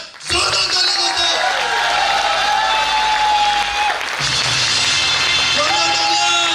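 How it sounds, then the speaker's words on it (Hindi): Applause from a crowd welcoming Sanjay Jain at a Safe Shop event, loud and steady over music, with a brief dip midway before clapping resumes. "जोरदार ताली दोस्तों"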